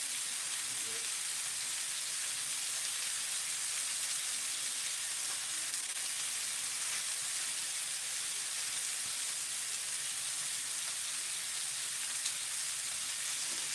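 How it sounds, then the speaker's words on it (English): Onions cooking slowly in a cast iron pan give a steady, soft sizzle and crackle that holds evenly throughout with no breaks, with no talk over it. "I'm trying to cook the onions nice and slow"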